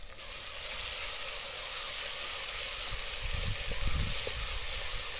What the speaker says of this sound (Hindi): ये देखिए प्याज और टमाटर बढ़िया सा फ्राई हो गया